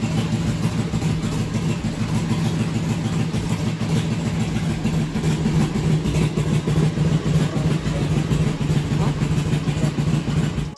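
A 2000 Harley-Davidson Road King motorcycle engine runs steadily after starting, a loud, constant low throb with no pauses and no voices throughout.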